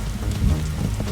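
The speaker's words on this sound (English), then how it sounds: "Oh, and it's raining and thundering." Steady rain with a low rumble of thunder at night in the forest survival game 99 Nights in the Forest, a continuous dense wash of sound.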